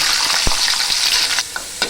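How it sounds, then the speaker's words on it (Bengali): Garlic and two dried red chillies fry in hot oil with a steady close sizzle, broken by a few sharp pops and spatters. "এতে দিয়ে দেব রসুন আর দিয়ে দেবো 2টো শুকনো লঙ্কা। এগুলোকে ভালো করে আমি ভেজে নেব লাল লাল করে।"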